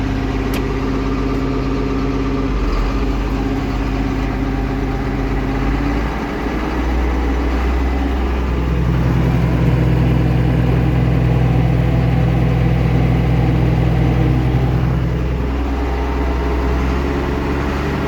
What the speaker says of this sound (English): run the spreader at around 1600 RPM